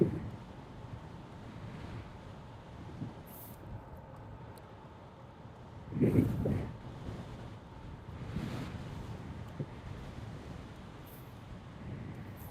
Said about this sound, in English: But there is a good amount of wind today.